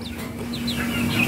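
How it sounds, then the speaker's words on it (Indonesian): Young Rawamerta laying-breed chickens, about one to two months old, clucking and cheeping in a short close cluster of calls over a steady low hum. "rawa merta chicken."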